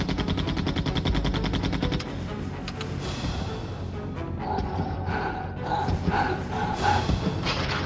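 Rapid gunfire from Resident Evil 2 under tense game music, with a dense, steady burst of automatic shots up front that gives way to continued firing and background sounds.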